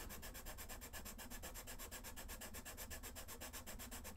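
A Faber-Castell Pitt 2B charcoal pencil scratches across paper in close, quiet, rapid rhythmic strokes, a dry rasping texture repeating evenly throughout with no talk.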